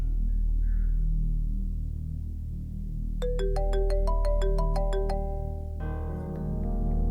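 Over a steady low hum, a phone ringtone starts partway through, a clear rising sequence of electronic tones followed by a brighter chiming pattern.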